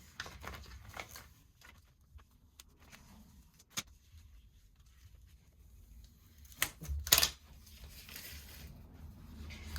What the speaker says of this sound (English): I'm just going to peel away my excess material from the CAD-CUT Ultra Weed